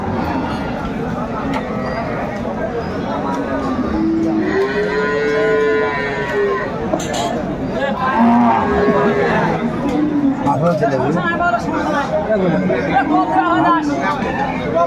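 Cows and calves low repeatedly at a busy cattle market, Aftabganj haat in Dinajpur, their moos rising over constant crowd chatter and people talking nearby.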